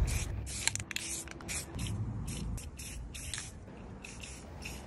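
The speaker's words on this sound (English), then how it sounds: "Followed by spraying a lighter green." Several short hissing bursts from a spray paint can painting light green onto pants, close up, sprayed in an uneven rhythm with small gaps.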